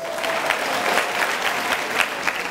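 Hearty applause from a university audience at Milton Margai Technical University, dense clapping with a few louder bursts, close and continuous throughout, with no speech over it.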